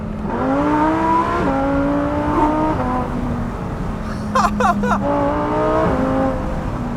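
A McLaren 600LT, Lamborghini Huracan STO and Porsche GT3 RS drive a race track, heard from inside as a loud, steady engine drone that climbs through several gear shifts, with a brief rattling burst midway.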